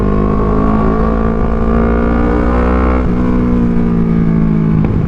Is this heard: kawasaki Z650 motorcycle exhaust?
yes